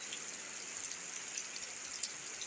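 Heavy rain falling outdoors, a dense continuous hiss of drops with a few sharper individual splashes, steady and close with no voices.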